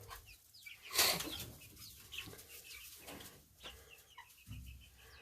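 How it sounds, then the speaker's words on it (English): Chickens on a farm at feeding time cluck and rustle nearby, with a burst of wing flapping and scattered soft bird calls against a quiet background. "But we bought these chickens here."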